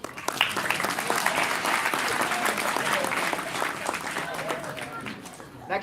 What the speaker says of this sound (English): Everyone clap, please.